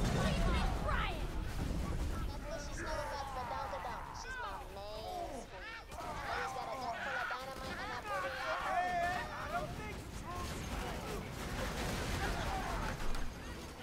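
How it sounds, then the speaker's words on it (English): Explosions and gunfire in the video game Borderlands 2 during four-player co-op play, dense repeated bursts and crashes close and loud, with players talking excitedly over the action. "So many explosions."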